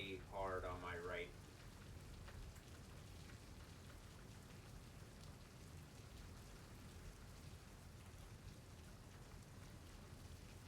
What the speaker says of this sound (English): It's raining in.